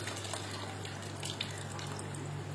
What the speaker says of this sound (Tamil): அந்த புளியை கொஞ்சமா ஊத்திக்கலாம்